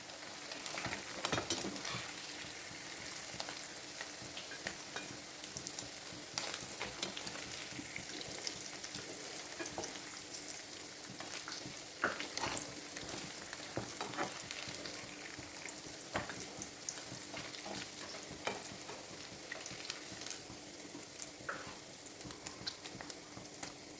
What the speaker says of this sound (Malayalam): മീൻ കംപ്ലീറ്റ് ഫ്രൈ ചെയ്തെടുത്തിട്ടുണ്ട്.